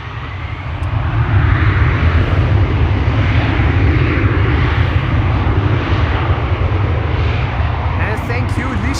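Airliner engines roaring at Schiphol Airport, a steady loud rumble that holds through the whole stretch as the aircraft passes close by.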